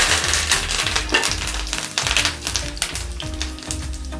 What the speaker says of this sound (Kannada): ಇದರಲ್ಲಿ ಒಂದು ಅರ್ಧ ಸ್ಪೂನಷ್ಟು ಸಾಸಿವೆಯನ್ನು ಹಾಕೊಳ್ತೀನಿ. ಅದು ಚಂದ ಚಿಟಪಟ ಅಂತ ಇರಬೇಕು.